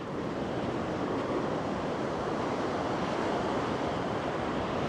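Ocean waves wash onto a beach in Gangneung, South Korea, as a steady broadband roar of surf mixed with wind noise, with no talk.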